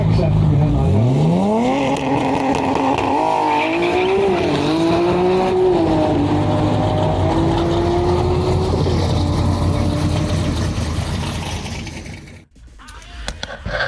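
A quarter-mile drag race car launches hard from the line at Vesivehmaa with heavy wheelspin, its loud engine note climbing and shifting through gears for about twelve seconds before cutting off abruptly, close and dominant.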